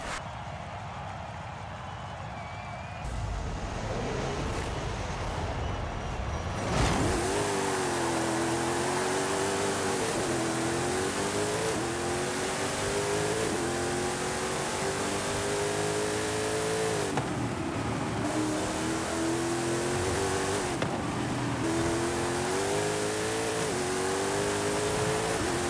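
A Mosler GT3 race car in Forza Horizon 5 laps a stadium circuit, its engine revving hard and rising and falling in pitch through repeated gear changes and corners, loud and continuous.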